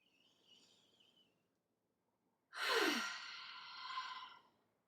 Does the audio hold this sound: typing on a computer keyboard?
no